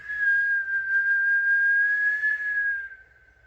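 A single long, steady whistle tone is held for about three seconds, loud and close, then fades away, with faint low rumble underneath and no talking.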